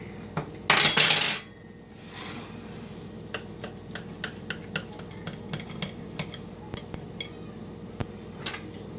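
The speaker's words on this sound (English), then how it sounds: "I'm gonna slice up a piece here so we can see what it looks like." Knife and fork work a crustless quiche in its baking dish while a piece is sliced out. A brief loud scrape opens, then a run of light, close clinks and taps follows at a steady pace.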